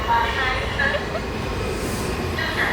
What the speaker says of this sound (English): That's a train right there.